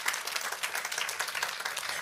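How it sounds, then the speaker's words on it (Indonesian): A church congregation claps in sustained, dense applause, a bright, steady crackle of many hands at moderate distance with no talk over it. "Boleh saya dengar tepuk tangannya yang paling meriah buat Yesus Tuhan kita?"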